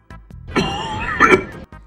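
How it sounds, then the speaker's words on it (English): General Grievous from Star Wars coughs, a single raspy, rattling fit lasting over a second, close and fairly loud, with a gravelly, mechanical rasp. "Grievous just has a coughing problem"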